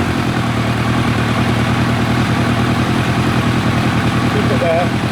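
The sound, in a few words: 1990 Kawasaki ZZR1100 motorcycle engine rough idle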